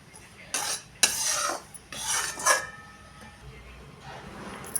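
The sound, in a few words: spoon scraping ghee-roasted jowar flour out of a pan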